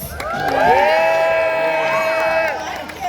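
A live show crowd, children among them, cheers, whoops and shouts to welcome a sniffer dog onto the stage, a loud sustained roar of many voices swelling and then easing.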